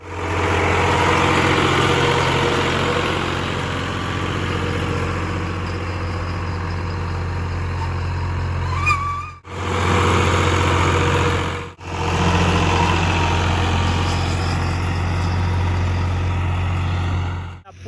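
A tractor engine working a wheat field during ploughing, a loud steady diesel drone held close, dipping sharply twice in brief drops before returning to full running.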